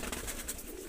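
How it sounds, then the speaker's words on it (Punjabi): A pigeon coos softly at close range in a quiet spot, low soft calls filling the short moment with no voices. "ਇਹ ਕਬੂਤਰੀ ਕਿਹੜੀ ਆ ਚਿੱਟੀਆਂ ਅੱਖਾਂ ਵਾਲੀ ਕਬੂਤਰੀ"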